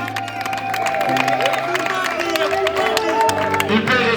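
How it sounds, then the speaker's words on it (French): Guests at a civil wedding celebration in Kinshasa clap and cheer amid crowd noise, with music and voices running underneath the applause. "Est-ce qu'on va applaudir pour elle?"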